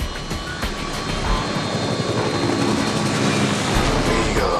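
Loud, steady engine and rotor roar of a helicopter in flight, a broad continuous drone with faint rhythmic pulsing, filling the whole stretch with no voices.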